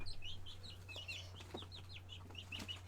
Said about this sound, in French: On va vous montrer quelle sorte de poussin quelle sorte de poule que ça va faire.